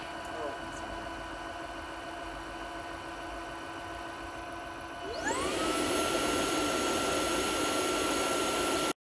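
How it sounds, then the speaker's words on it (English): Low steady motor hum, then a wet dry vacuum cleaner's self-cleaning cycle in its base spins up with rising whine into a loud, sustained whirring and rushing drone that runs until the end. "you can put it in the base, and it does go through and do self-cleaning"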